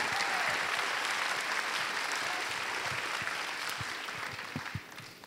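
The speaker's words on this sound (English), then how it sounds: "We also should give a round of applause to Joel." Sustained applause from a crowd at a homecoming gathering, a dense wash of clapping that holds steady for several seconds and tapers slightly at the end.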